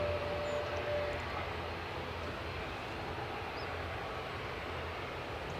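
An ATR turboprop departing Edinburgh airport gives a steady, fairly distant engine drone that holds an even level throughout, with no talk over it.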